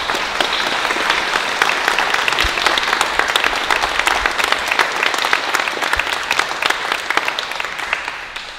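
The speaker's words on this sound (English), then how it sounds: "let's first give a big round of applause for Holden." Loud, steady applause from an audience at a fire department community honor ceremony, a dense wash of clapping that holds through the whole stretch without voices on top.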